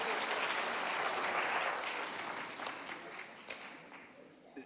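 An awards ceremony audience applauds honorees, a dense wash of clapping that starts loud and steady, then thins into scattered claps as it fades.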